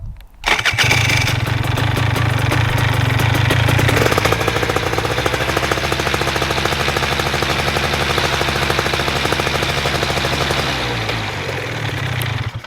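A Flylight Nine microlight's propeller engine starts and runs at a loud, steady rough drone close by, holding level for about ten seconds before easing off as it is switched off, with no talking.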